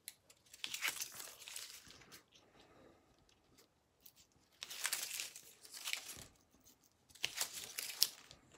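Backing being peeled off tape on a light paper page for a mini album gives faint crinkling, tearing rustles in three separate bursts with quiet gaps between them.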